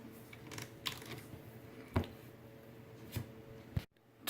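Keys clicking on a computer keyboard: a few scattered, distinct presses spread across the clip, close and fairly quiet over faint room noise, ending in a sharp click after a brief drop to silence.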